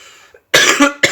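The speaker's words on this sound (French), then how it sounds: "je fais que de tousser" A person coughs loudly twice in quick succession indoors, one harsh cough followed by a shorter second, after a brief quiet gap, with no speech.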